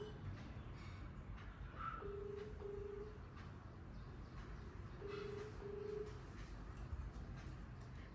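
A few short electronic tones beep in two quick pairs as number keys are pressed on a mobile phone, faint over low background rumble.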